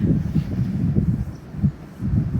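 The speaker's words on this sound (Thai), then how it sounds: "ลมแรงมากเลยค่ะ" Strong wind blowing outdoors, buffeting the microphone in low, gusty rumbles that surge and ease repeatedly at close range.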